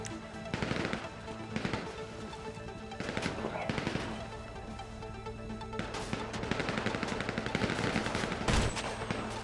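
Gunfire in a GTA Online heist, with scattered bursts and single shots, some near and loud, others more distant, under intermittent voices and game noise.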